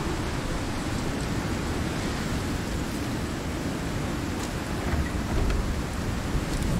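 Heavy storm rain roars in the survival game Icarus: a steady, loud, broadband wash with a deep rumbling low end and no break, and no voices.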